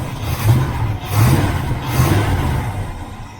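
A 1976 Chevrolet El Camino V8 freshly fitted with a 4-barrel carburetor in place of a 2-barrel runs loud and close, its engine note swelling in a few rhythmic surges over a steady rumble.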